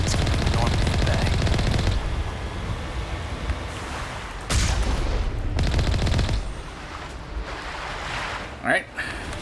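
Artillery and machine-gun fire in a Mass Effect battle on Virmire: loud sustained rattling volleys broken by sharp bursts and short lulls, mixed with wind and surf-like noise, with voices over it.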